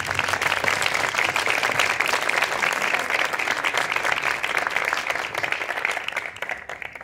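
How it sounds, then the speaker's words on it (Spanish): Dense audience applause swells in a hall at the close of a cultural event, loud and continuous for several seconds before tapering slightly at the end. "antes los vamos a despedir con un aplauso"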